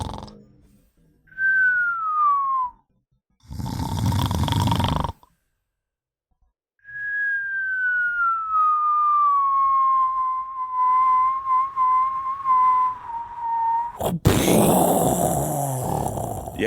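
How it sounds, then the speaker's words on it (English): Descending whistles like a cartoon falling-object sound effect, two long sliding tones separated by bursts of noise, loud and close with no talking. "That's the sound of Sleepy Jenkins that just got thrown out the window."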